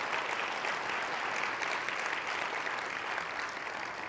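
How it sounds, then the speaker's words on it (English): Steady audience applause fills the room at a literacy summit, a dense, even wash of clapping that holds at constant strength throughout with no voices over it. "Let's give her another big round of applause."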